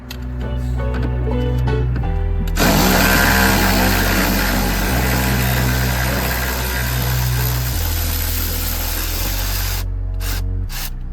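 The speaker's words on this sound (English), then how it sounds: "So we'll go ahead and start removing the two bolts." A power tool spins out the two tail light bolts on a 2006 Honda CR-V, a loud steady mechanical whir running for several seconds with shifts in pitch and brief stops near the end.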